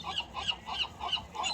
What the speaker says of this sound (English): This is a seagull.